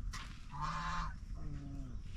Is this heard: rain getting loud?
no